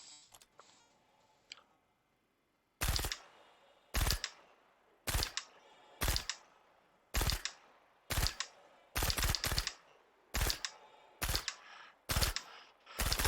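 Suppressed Gemini C54 submachine gun in the Star Citizen video game firing about a dozen short bursts, each a sharp clipped cluster of shots spaced roughly a second apart, close and crisp after a quiet opening.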